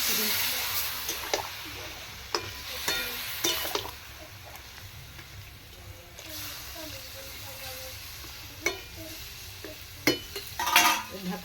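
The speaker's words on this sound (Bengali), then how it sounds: "পরিমাণ মতো জল দিয়ে দিচ্ছি" Pumpkin curry simmers and sizzles in a pan while water goes in, with a steady hiss broken by scattered clinks and scrapes of a spoon and a few louder splashy bursts near the end.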